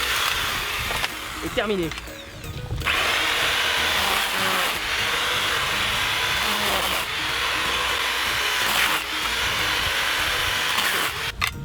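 Powerful electric shears cut through a garden bamboo stem with a loud, steady mechanical whir and a few sharp crunching bursts, partly under a man's speech.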